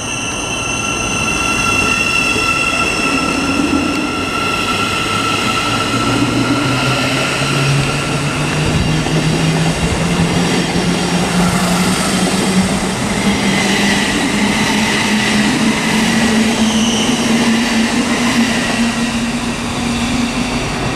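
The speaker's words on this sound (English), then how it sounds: "the partner now is going to be 1103 Thameslink service to Cambridge. It's going to be 700 145" A Thameslink Class 700 unit, 700 145, passes through Stevenage station on the East Coast Main Line as a Cambridge service. The loud, steady rumble runs throughout with wheel squeal and a rising tone over about twenty seconds.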